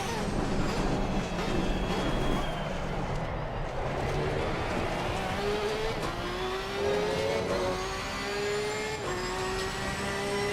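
A Porsche race car with a low-downforce setup laps in a sim racing game. The loud engine climbs steadily in pitch through each gear, with brief drops at the shifts, and there is no voice.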